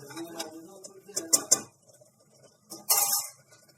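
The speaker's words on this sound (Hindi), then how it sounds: "और अब मैं इसमें ये सब्जियां डाल रही हूँ। सब्जियां डाल के 1 मिनट के लिए बस मिक्स करूंगी" Vegetables being stirred into a seven-grain khichdi stew in a pot, with a few close scraping and clinking spoon-on-metal strokes in short bursts and a louder rattling scrape near the end.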